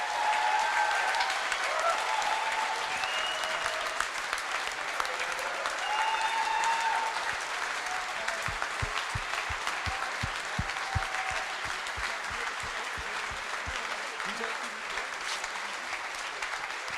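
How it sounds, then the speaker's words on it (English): A large audience claps steadily for the team behind a hydrogen-powered bus at a presentation event, dense sustained applause filling the room, with faint voices and brief tonal sounds mixed in. "please give this team the biggest applause in the world"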